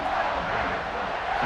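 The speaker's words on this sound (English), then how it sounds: "this crowd is buzzing after that last score" In EA Sports College Football 26, a stadium crowd roars in a continuous, dense wash of cheering and shouting after a touchdown, loud and sustained throughout.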